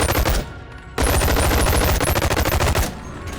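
Rapid automatic gunfire from a two-handed ranged weapon fired from the hip in a video game, two loud, close bursts of fast repeating shots separated by a short pause.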